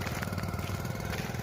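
A motorcycle engine running on a village road, a steady close rumbling drone throughout with no pauses.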